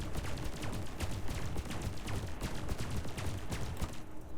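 A class 3 pulse laser fires in the space game Elite Dangerous, rapid repeated zapping shots in a fast steady rhythm, loud and close, stopping abruptly near the end.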